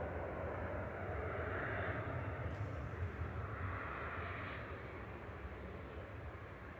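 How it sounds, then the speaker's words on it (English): Brussels Airlines jet in Atomium livery, registration OO-S, arriving at Manchester Airport at night, a moderate steady engine rumble that eases slightly toward the end, with no talk over it. "This is the Brussels coming in from Brussels flight 2183. Coming in for a sleepover, OO S&M in the Atomium livery."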